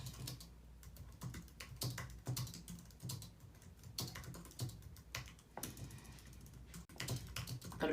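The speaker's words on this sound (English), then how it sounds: "So let's see if I can type this." Rapid bursts of typing on a computer keyboard, close and clear, with short pauses between clusters of keystrokes and no talking.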